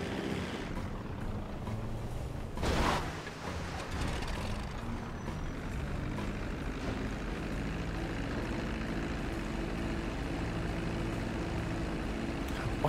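An airplane flying in GTA V Online, a steady droning engine hum that holds throughout, with one brief louder swell early on and no talk.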